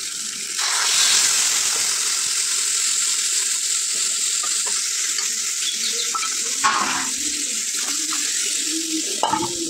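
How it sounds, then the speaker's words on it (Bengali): Water poured into spiced curry frying in a pan, a loud rushing pour over steady sizzling, with stirring clinks breaking in near the end. "পরিমাণ মতো জল দিয়ে দিলাম।"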